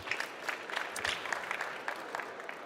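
Scattered clapping from a modest audience at an industry trade fair stage, fairly faint and distant, with individual claps standing out in an uneven rhythm.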